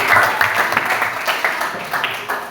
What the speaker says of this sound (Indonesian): kita sekali lagi berikan tepuk tangan